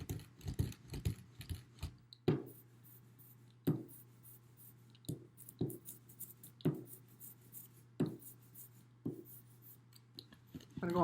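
Hand ink roller spreading black printing ink across a builder's foam relief block, a series of soft rolling passes with sharp tacky clicks at the turns, close and quiet over a steady low hum.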